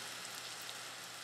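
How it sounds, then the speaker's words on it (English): Steady rain sounds played back from a nature sounds recording, a continuous hiss of falling rain that stays even and fairly soft throughout, with no talking. "I'm sure you can hear some rain in the background"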